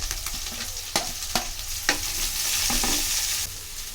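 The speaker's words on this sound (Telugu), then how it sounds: "కట్ చేసుకున్న ముల్లంగి ముక్కలు, తురుముకున్న ముల్లంగి తురుము రెండు కలిపి వేగనివ్వాలి" Radish pieces and grated radish frying together in a pan for a radish chutney, a close, continuous sizzle broken by several sharp clinks of a spoon stirring against the pan, with no voices.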